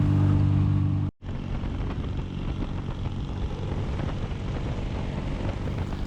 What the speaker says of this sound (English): When you're enjoying the growl of the exhaust and the mechanical sound of the engine, this is a real machine.